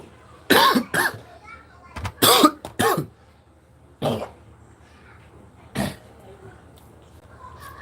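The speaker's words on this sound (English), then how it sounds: "I'm having a little cough." Several sharp coughs in short bursts, a cluster of three or four followed by two more spaced out, close to the microphone with quiet background.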